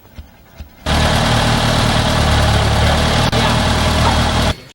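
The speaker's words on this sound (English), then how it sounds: "This here's a Frick steam engine here." A Frick steam engine from around 1895 runs at an agricultural event, a loud, steady low rumble with a broad mechanical hiss that starts abruptly and holds for several seconds before cutting off.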